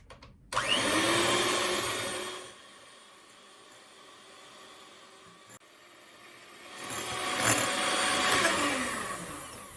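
An electric mixer whips six egg whites with sugar for a Taiwanese castella cake, giving a steady close motor whir that is loud at first, softens in the middle, then swells again.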